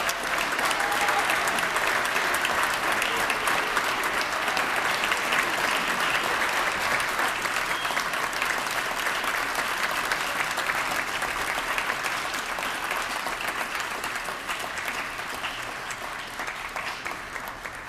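Sustained applause fills a chamber at a Latino Spirit Awards ceremony as the audience honors the recipients, loud dense clapping that holds for most of eighteen seconds before slowly thinning.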